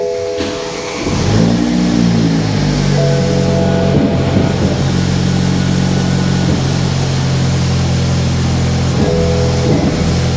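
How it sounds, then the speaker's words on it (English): A BMW 220i M Sport from a salvage auction with a misfiring engine cranks and catches, then runs loud and close at a steady idle, its low drone carrying slight wavering irregularities. "it's misfiring now."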